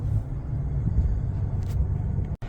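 A 2024 Chevrolet Trax 2RS rolls along on a test drive, heard from inside the cabin as a steady low road and engine rumble with a brief cutout near the end.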